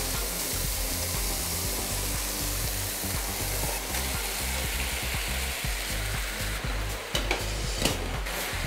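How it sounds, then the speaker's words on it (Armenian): Pasta going into a hot pan with meat for a spicy sauce dish, with a loud continuous sizzle and frying hiss plus some stirring scrapes, close up and with no talking. "Դե ինչ, կարող ենք արդեն պաստան ավելացնել։"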